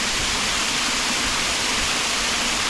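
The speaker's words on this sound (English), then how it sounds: "And a waterfall." Dry Creek Falls trickling in summer: a steady, broad wash of falling water hisses continuously and evenly, close by, with no voices.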